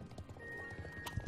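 A horse in the video game Star Stable runs with quick rhythmic hoofbeats and a short whinny, all brief and fairly faint, with game music under it.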